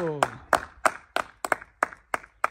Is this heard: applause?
yes